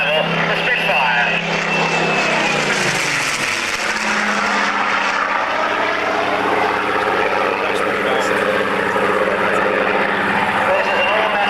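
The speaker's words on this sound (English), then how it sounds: "But here at low level, the Spitfire." A Spitfire roars past at low altitude at an air pageant, its engine drone loud and close, pitch shifting as it passes, with a voice talking over it.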